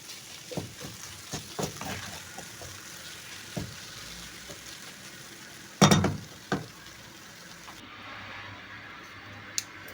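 Herbs and garlic sautéing in a pan, a quiet steady sizzle broken by scattered clicks and scraping taps of stirring, with one sharp louder clatter midway.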